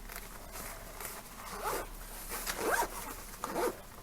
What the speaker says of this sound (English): zip it shut like that